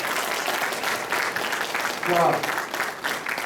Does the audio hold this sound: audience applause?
yes